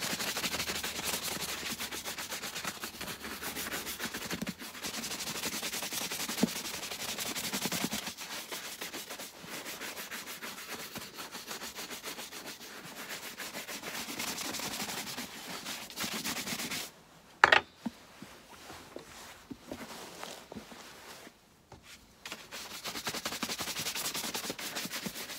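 Brisk buffing of a leather boot to lift excess shoe cream, a steady close rasping rub that runs almost continuously, pausing briefly twice near the end, with no talking.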